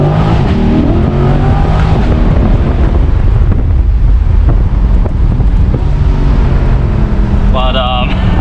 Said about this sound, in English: we are driving this Corvette today in track mode and in manual mode